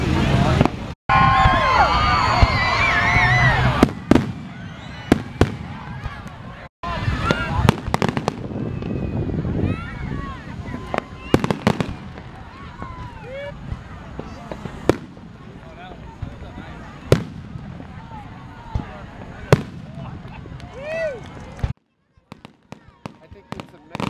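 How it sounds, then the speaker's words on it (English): Fourth of July fireworks at New Smyrna Beach, with repeated sharp bangs and crackling bursts spread over the whole stretch and a few brief gaps, under steady crowd chatter and nearby voices. "I think it's a Mexican Italian Christmas fireworks."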